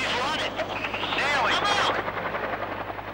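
A Mi-24 Hind attack helicopter flying nearby, its thudding rotor and turbine roar loud and sustained throughout, with a voice talking over it.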